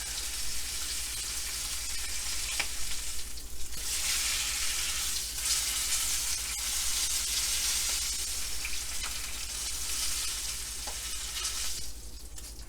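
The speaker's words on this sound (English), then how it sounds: "Getting some good color on the steak" A thick tomahawk beef ribeye sears in a hot pan with a steady, loud, close sizzle and crackle that carries on without a break and with no voices.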